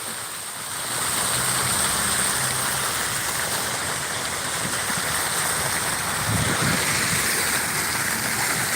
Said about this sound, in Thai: ได้ยินเสียงน้ำ